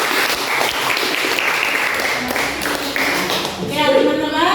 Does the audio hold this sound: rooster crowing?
no